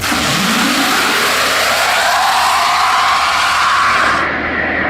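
A Tesla Model X Plaid launching hard in a drag race, a loud, rising electric whine and road rush that climbs in pitch over a few seconds before cutting off abruptly.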